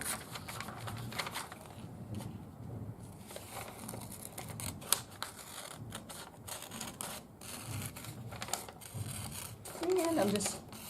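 Scissors trim a paper shorts pattern, producing repeated crisp snips and paper rustles at close range, with soft speech running underneath.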